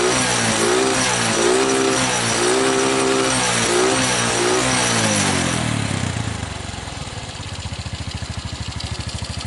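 A Suzuki Smash motorcycle engine runs unevenly at a workshop, revving roughly with wavering pitch and then dropping to a rapid, irregular popping idle, loud and close throughout.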